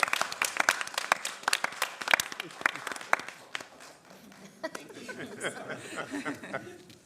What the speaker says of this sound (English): Do a little clap for y'all because we appreciate you